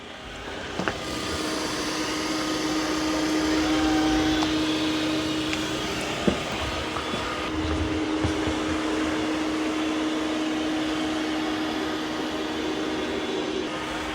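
A Dreame L40 Gen 2 robot vacuum cleaning a floor in a crisscross pattern, with a steady whirring motor drone and a faint tonal hum, occasional soft bumps and clicks, no voices.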